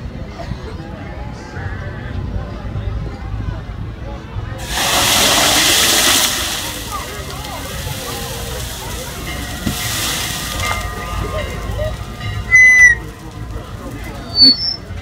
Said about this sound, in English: when they laid it on the top, it just reacted and comes back as a huge fireball